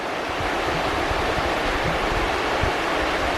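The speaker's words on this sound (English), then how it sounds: "This is the New River. Second oldest river in the world." The New River flows through the North Carolina mountains near Jefferson, a steady, full rushing of water close by with no breaks and no voices.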